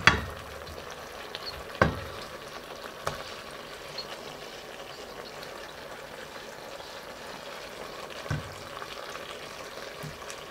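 Beef and pork frying in a pan for spaghetti guisado, a steady close sizzle with a few sharp clatters of utensil against the pan early on and later.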